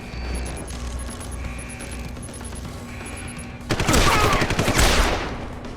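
A burst of rapid gunshots erupts in Deus Ex: Human Revolution after a few seconds of quieter game ambience with repeating electronic beeps, the volley loud and dense for about two seconds before fading.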